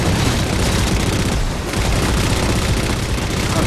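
Vehicle-mounted turret fire in Halo 4 rattles in a dense, continuous barrage of booming shots, loud and unbroken throughout.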